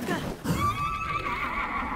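Horse in Zelda Breath of the Wild on master mode gives a clear, loud whinny that rises and trails off over about two seconds, with a low thump near the start.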